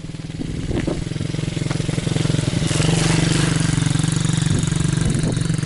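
A small MRF pit bike engine holds a steady, loud, close drone with slight rises on the throttle, riding a practice course, with no speech over it.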